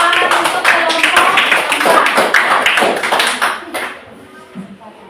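Classroom applause for a student group, a lively burst of clapping from a modest crowd that thins into scattered claps and fades out over the last second or so, with some voices mixed in.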